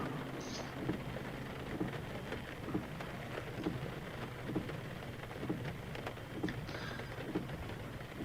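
Rain falls during a sim racing video game at the Hungaroring, a steady, soft, hissing patter with faint scattered drops that runs on evenly throughout, quiet and diffuse with no voices.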